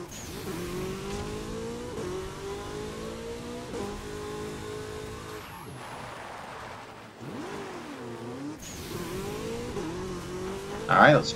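A car engine revs and whines through gear changes while racing in Burnout Paradise on PS3, rising and falling in pitch, with a quiet stretch midway and a sudden louder burst at the end.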